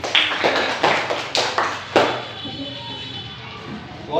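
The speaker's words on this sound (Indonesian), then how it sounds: "tepuk tangan buat si Gading." Classroom applause for a student, a handful of loud, separate claps in uneven bursts at close range, fading out after about two seconds into quiet room sound.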